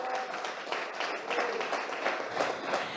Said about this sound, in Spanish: aplausos a la promesa de Dios